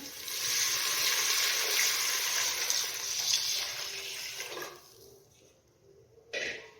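Water pours into a cooking pot for biryani as a steady rushing stream that tapers off after about five seconds, followed by a brief splash.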